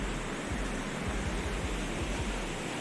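Plentiful water of the Devkund waterfall stream near Pune rushes over many rocks, a steady broadband roar with a few low thumps beneath it and no talking.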